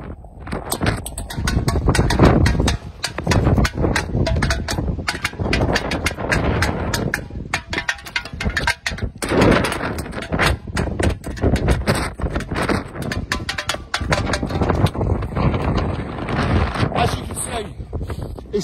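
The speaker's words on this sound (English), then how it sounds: "look how fast this wind's going. Can hardly stand up in it" Strong storm wind roars and buffets loudly around a person outdoors at night in Jaywick during Storm Bella, a continuous dense rush with gusty surges, while a voice talks over it.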